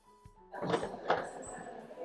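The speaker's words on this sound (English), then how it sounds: "pull gently until you hear the fuel door release." Lexus emergency manual fuel door release pulled by hand, giving two quick muffled pops and clunks about half a second apart, close up and fairly quiet over soft background rustle.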